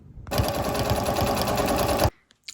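A sewing machine runs steadily for about two seconds, stitching through open-weave lace tablecloth fabric being made into a camp shirt, a close, loud mechanical whir with rapid needle clatter that stops abruptly.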